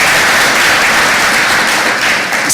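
Applause from an audience at a prison service savings cooperative workshop, loud, dense, continuous clapping close by with no break.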